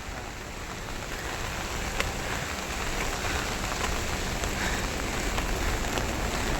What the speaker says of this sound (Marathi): कारण पाऊस पडतोय खूप